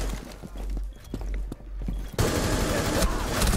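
Rapid gunshots in a tactical shooter round, a few sharp cracks at first, then a loud sustained burst of automatic fire close by, with no talk over it.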